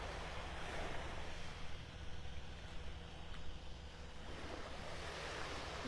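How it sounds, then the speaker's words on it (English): Small waves lapping on a beach shore in North Naples, Florida at low tide, a soft continuous wash of surf with light wind noise, no talking. "A few little waves lapping on the shore."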